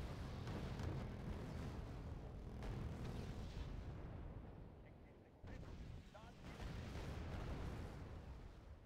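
Repeated booming blasts and rumbling explosions in the video game Wargame: Red Dragon fill the scene, dense and loud, with a brief lull midway before the barrage resumes.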